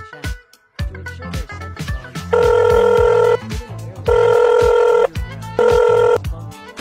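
A telephone rings in three long electronic bursts over about four seconds, loud and close, with muffled background sounds between the rings.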